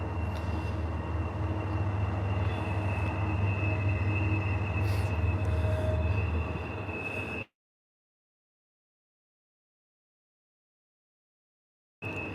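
A CP ES44AC locomotive hauling a stack train rolls past near the Yale tunnels, a loud steady rumble with a sustained high tone for about seven seconds before it cuts to silence, then briefly resumes.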